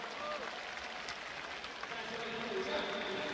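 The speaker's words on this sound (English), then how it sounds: "the crowd almost apologetically applauding DeAndre Batson" Athletics stadium crowd at a 100m race in Beijing applauding sprinter DeAndre Batson, a steady, moderate patter of clapping under a general murmur, heard from a distance.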